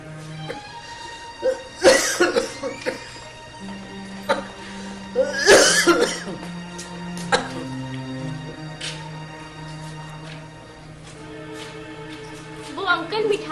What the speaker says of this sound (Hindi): खांस क्यों रही है?